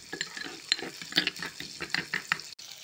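A spoon stirs a chili powder and sugar sauce mixture for chili baby corn, giving quiet, irregular scraping and clinking strokes close by, with no talk.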